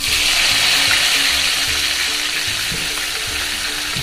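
Brinjal frying in a hot pan for a stuffed brinjal dish, a loud steady sizzle with crackling hiss that holds throughout and eases slightly toward the end, close and without voices.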